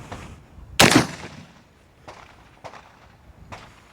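A single sharp, close rifle shot from an M70 fitted with a Delta-tek muzzle device, gas shut off so the action does not cycle, cracks once and fades, followed by a few faint clicks and handling noises.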